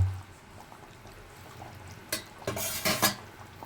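A pot of hilsa fish being steamed is covered with its lid, heard as a soft shuffle followed by a few sharp metallic clanks and scrapes of the lid settling, close by.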